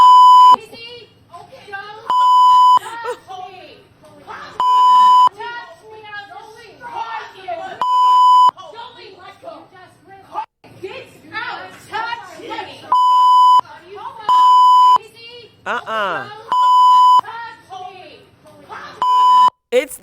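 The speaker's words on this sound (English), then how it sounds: "It's the beeps for me." Censor beeps cut in repeatedly at a steady tone, each bleep loud and lasting about a second, alternating with lively speech from a talk show host throughout.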